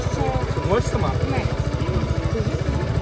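Motorcycle engine running steadily close by, a continuous low throbbing chug throughout with people talking over it.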